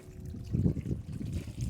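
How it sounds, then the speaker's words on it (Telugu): Irrigation water trickles through furrows in a farm field, a soft low gurgling and dribbling that stays faint and fairly steady with small swells. "ఇట్లా నీళ్ళు కారుతానే మంచిగా సార్లు పోతాయి"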